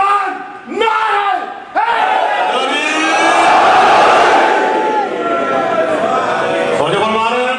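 Large crowd at a Muharram gathering in Wah Cantt chanting a religious nara together, a loud, swelling roar of massed voices answering a leader's call, repeated in waves.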